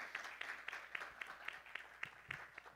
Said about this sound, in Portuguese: Eu queria uma salva de palmas para o professor.